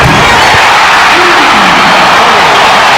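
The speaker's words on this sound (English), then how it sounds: "that quiets the crowd for the moment, but they get right back into it" Basketball arena crowd at a 1995 NBA playoff game roars continuously, a dense, loud wash of cheering and shouting that holds steady throughout with no clear individual voices standing out.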